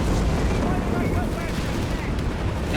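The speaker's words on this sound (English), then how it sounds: "massive artillery strikes going down as well" A 305mm artillery barrage in Company of Heroes 3, a continuous heavy rumble of overlapping booms and distant blasts that holds loud and dense from start to finish.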